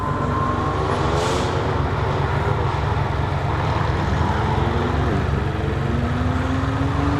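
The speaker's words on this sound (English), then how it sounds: "These cars sound amazing." Several fast cars drive past with engines roaring and revving, a continuous loud drone with rising and falling engine pitch heard close by.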